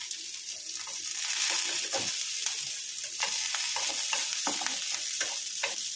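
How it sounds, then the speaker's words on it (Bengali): Onion and green chillies fry in oil, a close, steady sizzle broken by repeated scraping and stirring strokes in the pan, with no voices. "পেঁয়াজটা ভাজা হয়ে এসছে, হালকা ভাজা হয়ে এসছে"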